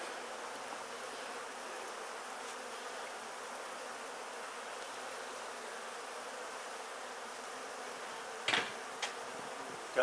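A soft, steady hum of many honey bees buzzing together in a top bar hive fills the background, faint and continuous, with a couple of brief knocks near the end.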